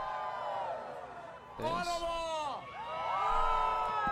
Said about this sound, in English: what a crowd! This is history!